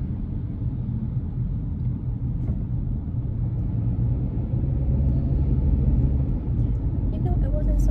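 A car makes its final turn before arriving, a steady low rumble of engine and road noise that swells slightly near the end, close and continuous with no talking.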